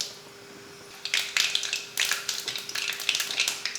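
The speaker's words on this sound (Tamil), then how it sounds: "வெந்தயம் கடுகு பொரிஞ்சதுமே கருவேப்பிலை" Mustard seeds and fenugreek spluttering in hot oil in a kadai, sharp crackling pops bursting in quick clusters, close and lively after a quiet start, with a steady faint hum underneath.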